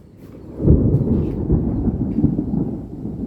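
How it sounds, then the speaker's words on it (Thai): A deep, rolling rumble of thunder swells and lingers, with a steady hiss of rain underneath throughout. "เพราะว่าเวลาฟ้าร้องแบบนี้เนี่ย ฝนตกเนี่ย"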